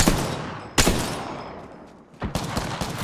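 Rapid bursts of automatic gunfire in Apex Legends, loud and close, with several sharp volleys separated by a brief lull before a final string of shots.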